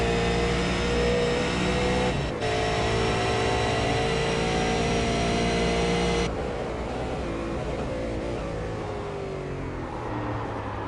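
V8 Supercar engine on a flying lap around Virginia, a loud, close, continuous roar with shifting revs and a brief dip near the start, then a steady drone that eases slightly toward the end.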